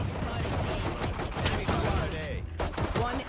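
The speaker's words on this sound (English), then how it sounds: "kind of spamming a little bit too quick with the pistol here" The Classic pistol in Valorant fired rapidly over and over, a quick string of sharp close shots in an uneven burst, with game effects and some voice underneath.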